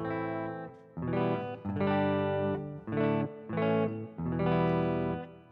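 Clean electric guitar chords through a Laney Ironheart IRT Pulse ring out with reverb, strummed in several sustained bursts separated by brief pauses.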